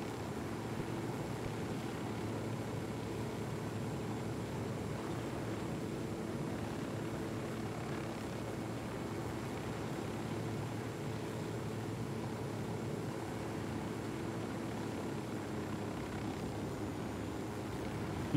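A helicopter flies in the video game Ghost Recon Wildlands, its steady rotor and engine drone holding loud and unbroken throughout with no voices.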